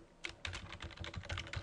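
Quick, soft clicking of keys as a password is typed on a computer keyboard, close and quiet, with no voices.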